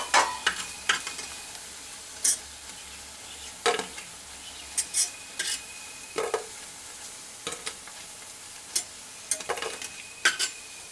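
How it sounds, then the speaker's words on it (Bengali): Dhoka lentil cakes frying in oil, with a soft steady sizzle beneath sharp intermittent clinks and scrapes of a spatula against the pan. "আমি সেম প্রসেসে বাদ বাকিগুলো ভেজে নেব"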